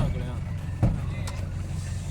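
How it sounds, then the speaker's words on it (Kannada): A car being driven, heard from inside as a steady low engine and road rumble with a brief bump near the middle; muffled voices may sit under the drone. "ಬರ್ಲ ಅಂಕಲ್ ಚಾಲೋ ಮಾಡಿದ್ರು ಗಾಡಿ"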